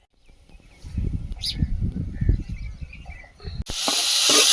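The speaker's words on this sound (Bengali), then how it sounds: "শাক ভাজা হয়ে গেছে" Water spinach greens fry in a kadai, with low stirring clatter that gives way near the end to a sudden, loud, steady sizzle.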